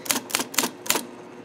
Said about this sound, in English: so we can do some simple character typing here